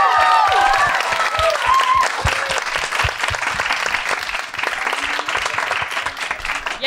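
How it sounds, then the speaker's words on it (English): Audience gives a big round of applause for the taskmaster at a homemade game show, loud and close, with individual claps standing out in a dense roll and a few cheers at the start, gradually thinning. "Can we give a big round of applause to our taskmaster,"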